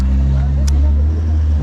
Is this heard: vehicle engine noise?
yes